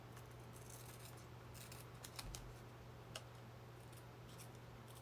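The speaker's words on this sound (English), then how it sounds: "I just need to trim this part off to make it even" Scissors trim a vinyl-like tea bag: a few faint, brief snips and ticks spaced apart, heard close over a steady low hum, with no talking.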